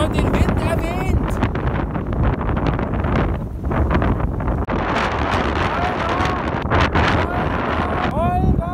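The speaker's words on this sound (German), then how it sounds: "Denn es ist verdammt windig." Strong wind buffeting a microphone outdoors during triathlon training, a loud continuous rumbling roar with gusty surges throughout, partly covering a voice talking.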